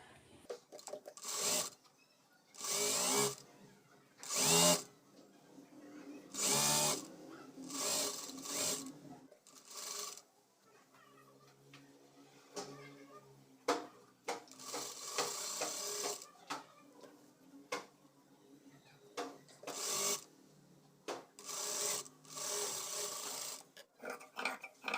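A sewing machine stitches a double-folded lining hem on a top, running in repeated short bursts with pauses and soft fabric handling between them.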